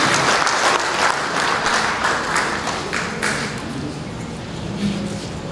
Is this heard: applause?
yes